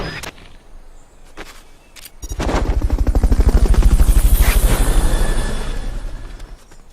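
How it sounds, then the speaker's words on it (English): Fulton Recovery helicopter in Metal Gear Solid: Peace Walker, a loud, steady rotor thump with rapid rhythmic chopping that swells and fades, following a few sharp transient hits at the start. "Fulton Recovery helicopter is complete."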